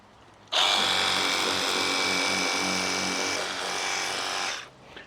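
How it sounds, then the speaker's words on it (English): A small cordless car-care pressure washer gun sprays on its 0-degree setting, a sudden loud, high whining motor hum that holds steadily for about four seconds, dips briefly, then cuts off. "that's how this little pressure washer works"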